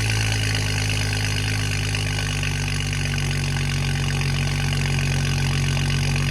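A BMW F30 335i fitted with a catless downpipe and resonator delete runs steadily, its loud, deep engine drone holding at a constant idle-like level throughout with no one talking.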